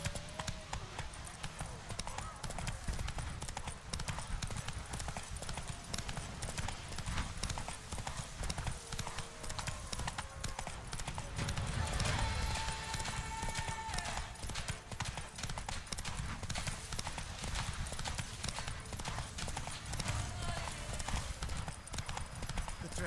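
Horse in The Witcher 3 trotting: a continuous, steady clip-clop of hooves throughout, moderately loud, over a dense in-game ambient bed.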